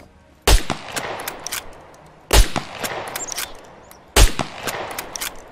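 Three loud, sharp .308 rifle shots without a suppressor in the SCUM video game, evenly spaced about two seconds apart, each with a short ringing tail and no speech.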